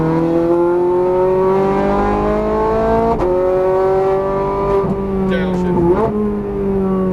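A Ferrari F430 Scuderia accelerates hard out of a corner on a race track, its engine note climbing steadily in pitch with brief dips at gear changes, loud and close from inside the car while an instructor talks over it.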